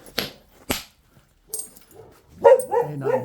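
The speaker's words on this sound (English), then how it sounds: "you can still probably hear them barking" A dog barks sharply a few times, with pauses between, then breaks into higher whining yips and whimpers close by.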